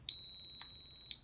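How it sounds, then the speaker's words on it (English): Three sharp, high electronic beeps from an RVLock keyless entry fob being programmed, close and loud, evenly spaced over about a second, with the tone holding steady between them. "You just press and hold the fob learn button till it beeps"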